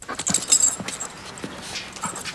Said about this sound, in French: Ça perturbe le flair du chien.